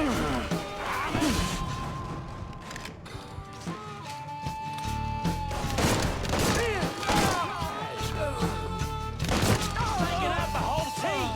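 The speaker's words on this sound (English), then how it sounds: "We got us a gunfight." Gunfight in the video game Mafia 3, with repeated sharp gunshot bursts and crashing impacts scattered across the whole stretch, loud and dense, over game music.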